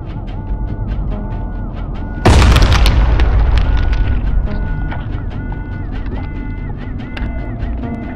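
A sudden loud boom from an explosion set off to destroy eggs bursts out, then decays into a long rumbling roar and settling debris over a steady mechanical hum, with no talking.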